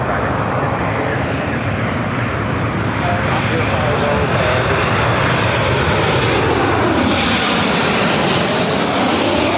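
An airliner takes off from runway 24 left, a loud continuous engine roar that fills the whole stretch and swells slightly toward the end.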